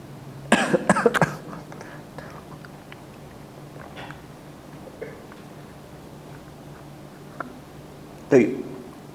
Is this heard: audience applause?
no